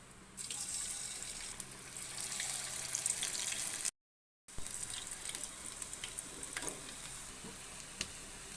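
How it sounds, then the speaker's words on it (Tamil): Maida flour bondas frying in hot oil, a steady close crackling sizzle that runs throughout with a brief dropout midway, no talking. "எண்ணெய் சூடாயிடுச்சு போட சூடாயிடுச்சு போண்டா போட்டுக்கலாம்"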